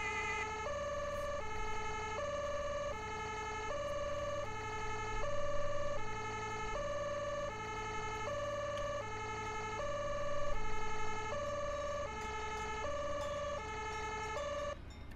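Two-tone German Martinshorn siren on an emergency doctor vehicle (NEF) in the Landwirtschafts-Simulator 17 firefighting game, cycling steadily and loudly throughout with no voices.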